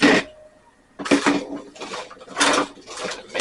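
A spoon scrapes and clatters against a baking dish as a seasoning mix is stirred into potatoes, coming in several close, uneven bursts separated by brief pauses.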